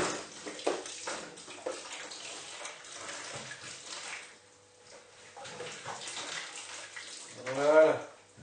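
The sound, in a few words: water running from a tap while rinsing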